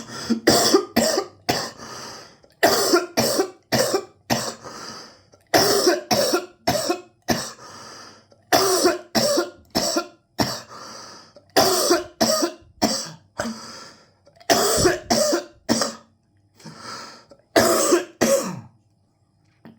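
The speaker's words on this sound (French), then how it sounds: "Je tousse beaucoup, je suis désolé parce que je tousse beaucoup" A person coughs repeatedly in close, loud bursts, with short pauses between clusters of harsh coughs spread across the whole stretch and no speech.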